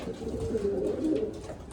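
Pigeons coo steadily in a loft where young birds are molting, a low rolling warble that carries on without a break through the whole stretch at moderate volume.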